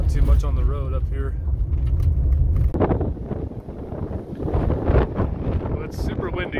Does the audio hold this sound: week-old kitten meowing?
no